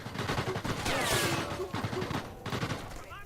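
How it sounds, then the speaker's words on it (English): Sniper rifle fire from the Sniper Elite VR game on PlayStation VR comes as a loud, echoing shot with rolling reverberation, followed by further bursts of gunfire and mixed game sounds. "Headshot from all the way across the map."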